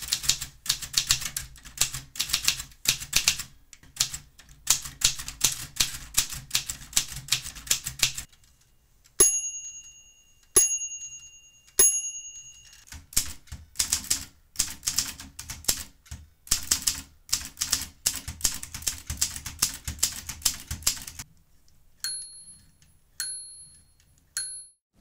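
A Royal Safari portable typewriter is typed on steadily, with crisp rapid key strikes in long runs. Sharp carriage-return bell dings and short pauses break up the runs, and no one talks over it.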